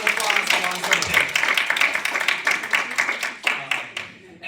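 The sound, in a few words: audience round of applause after a presentation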